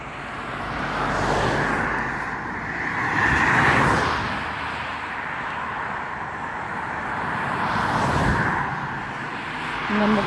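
Road traffic during morning office hours, vehicles swelling and fading as they pass at moderate distance, with a couple of louder passes and steady background hum between them.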